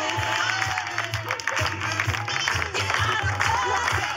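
A television studio audience gives a thunderous round of applause for the award to France's best saleswoman in home sales, the clapping dense and steady throughout over a thumping music beat.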